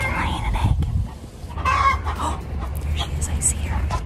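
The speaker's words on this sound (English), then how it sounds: "That's the sound of a chicken laying an egg." A backyard hen on an urban farm clucks in repeated bursts of egg-laying cackle, fairly close, over a low outdoor rumble, with faint voices around.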